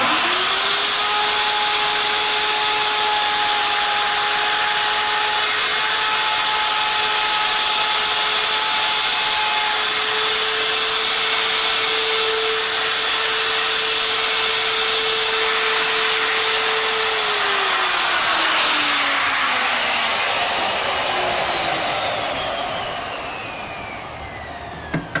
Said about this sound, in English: So I'm just going to go ahead and router out this hinge here, and then I'll do the other two.